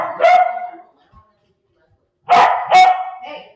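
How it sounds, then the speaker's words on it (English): A dog barks in a home setting: a short bark with a whiny tail, a pause of over a second, then two more sharp barks close together, loud and close, with no talk. "No barking."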